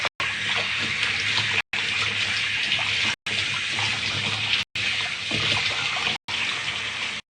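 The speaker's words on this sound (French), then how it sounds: "On rince bien." Hair rinsed under running tap water, probably a shower: a loud, steady rush of water close by in several long stretches split by brief silent cuts, with no talking.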